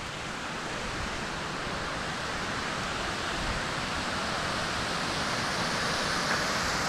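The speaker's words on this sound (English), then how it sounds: "There's the waterfall, guys." Steady, dense roar of the waterfall at Cloudland Canyon, a broad continuous rush of falling water heard close and loud throughout with no voices over it.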